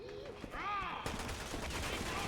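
Rapid bursts of gunfire in a Resident Evil 6 session, cracking in quick succession while players talk over the action.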